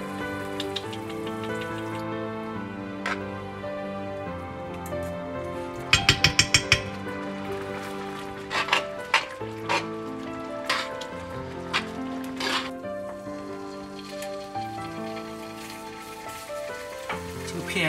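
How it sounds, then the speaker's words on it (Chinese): Mushroom soup poured into a hot pan holding salmon, giving a steady sizzle and bubbling with scattered clinks and taps of a utensil against the pan throughout. "我们倒入蘑菇汤。"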